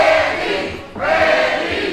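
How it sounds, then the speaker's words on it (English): Wrestling crowd at a Coastal Empire Wrestling show chanting a wrestler's name in unison, a loud, dense roar of many voices that swells in two rising waves with a brief dip between, filling the arena without any commentary over it. "In unison, the crowd chanting his name"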